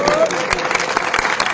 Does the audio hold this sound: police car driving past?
no